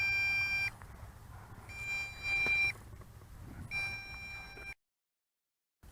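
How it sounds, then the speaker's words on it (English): The remote control of an MJX Bugs 2 B2C brushless GPS quadcopter gives a disconnect alarm of repeated high electronic beeps. The beeps come in several pulses separated by short pauses, then the sound drops to near silence. "Disconnect alarm on the remote control."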